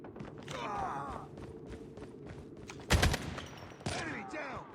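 Rifle fire from Call of Duty Mobile rings out in quick bursts with a sharp loud shot near the middle, over game footsteps and faint ambient noise, with no one talking.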